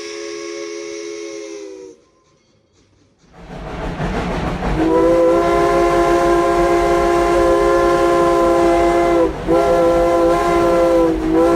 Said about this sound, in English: Welcome to a Rusty Rails custom train ride narration.